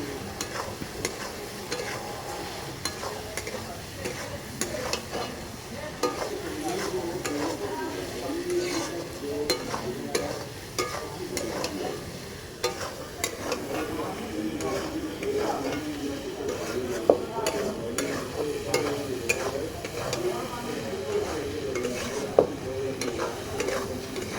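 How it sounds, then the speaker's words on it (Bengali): Potatoes sautéed with spice masala in a pan, giving a close, steady sizzle with frequent spatula scrapes and occasional clinks against the pan over a long stretch; no speech. "আলুর সাথে মশলাটাকে সুন্দরভাবে কষিয়ে নেব।"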